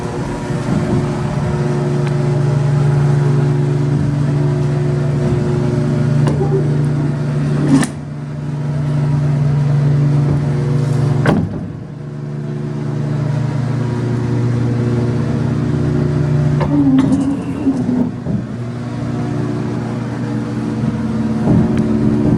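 Antique Warsaw freight elevator machinery hums loudly and steadily as the car descends, a sustained low motor drone broken by a couple of sharp clanks and shifts in pitch along the way.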